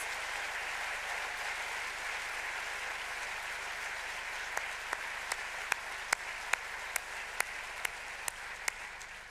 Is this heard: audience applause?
yes